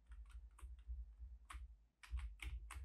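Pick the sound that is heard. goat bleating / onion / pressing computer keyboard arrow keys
pressing computer keyboard arrow keys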